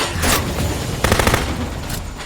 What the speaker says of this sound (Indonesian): Jeon dan rekannya pun langsung menyerang Jun dengan tembakan bertubi-tubi